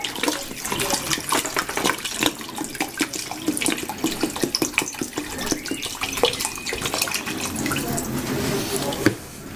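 About two liters of water pour from a tap into a cooking pot for molokhia, a close, steady gushing splash with bubbling and dripping textures running continuously to the end.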